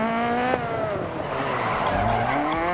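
A rally car in the DiRT 4 racing game drifts with a loud, sustained engine note that rises and shifts, tires squealing and skidding over it, close and continuous with no talking.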